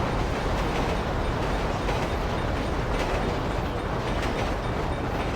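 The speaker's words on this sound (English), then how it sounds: "here comes the train. Down goes the rails" A video game train rolls along rails in the Railroads Enhanced mod, a constant loud rumbling, clattering roar that holds steady throughout, with no speech.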